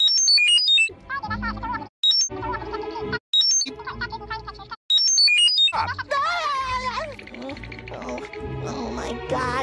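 Rapid high-pitched electronic beeps chirp in short bursts, broken by brief gaps, followed by a warbling, squeaky tone over a low musical bed, from a cartoon Mr. Krabs.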